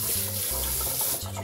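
Tap water runs steadily into a sink as cooked noodles are rinsed under it, a close, continuous splashing rush that briefly dips and resumes.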